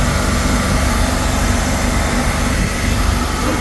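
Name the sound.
boat engine idling high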